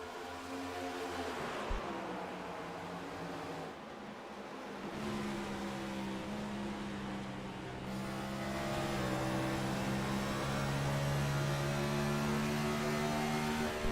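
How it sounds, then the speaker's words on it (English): Several race car engines in the iRacing video game drone together around a short oval track at Iowa, a steady layered whine that rises and falls in pitch as the cars circle, with no voices. "we'll get to hear how these engines sound around this short track"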